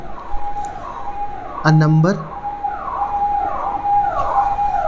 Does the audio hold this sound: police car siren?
yes